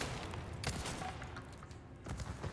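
Gunfire in Resident Evil 4 (2023), a few sharp separate shots fired in quick bursts at a castle, loud and close with short gaps between them.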